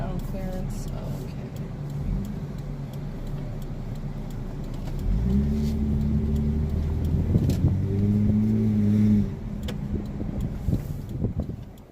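Lexus GS300 with a muffler delete driving, its exhaust a steady droning rumble from inside the car that swells louder under acceleration mid-way, then settles back to a lower hum.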